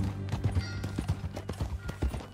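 Horse hooves clip-clop in steady rhythm on a ranch in Red Dead Redemption 2, close and clear with light tack rattle, no talk over them.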